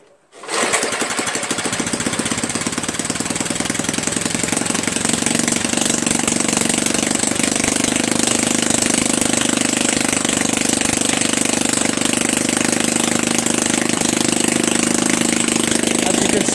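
A Tecumseh 6HP engine on a Jacobsen Imperial 26 dual-stage snow blower starts up and runs with no muffler, a loud, harsh, rapid-firing drone held steady close by with the choke wide open.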